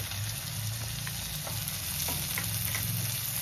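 Tomato and capsicum sizzling and frying steadily in a pan with golden-brown onions, a continuous close crackle with faint stirring scrapes, no voices.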